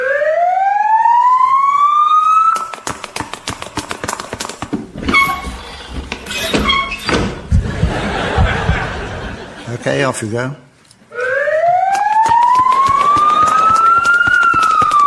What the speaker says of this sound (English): Never mind that siren.